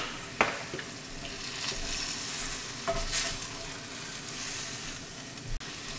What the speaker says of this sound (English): We're going to cook this mixture until this juice sort of evaporates.